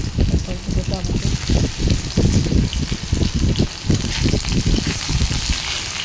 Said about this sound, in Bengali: কড়াইতে তেল গরম হচ্ছে, এর মধ্যে দিয়ে দেবো আমি প্রথম রসুন কুচি, এতে করে সব দিয়ে দিলাম, পেঁয়াজ কুচি দিলাম